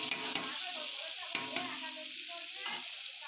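Potatoes frying in oil in a home kitchen, a steady close sizzle with a few sharp stirring clinks and scrapes of a spatula, no talk.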